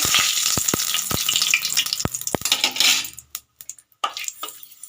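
Dried red chilli and a bay leaf dropped into hot oil, a loud crackling sizzle punctuated by sharp pops and spatters that cuts off suddenly, then utensil clinks and fainter frying.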